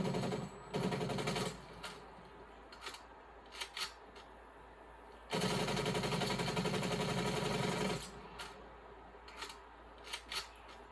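Gunfire in Call of Duty Black Ops Cold War: two long sustained automatic bursts, one short and one lasting several seconds, with quick clicks and short mechanical handling noises between them over a steady hum.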